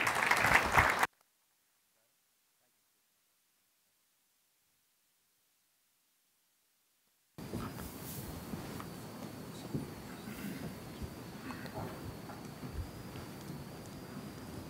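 An audience at a convention keynote applauds as a speaker takes the podium: a short burst of clapping, then silence, then steady, fairly faint applause that continues to the end.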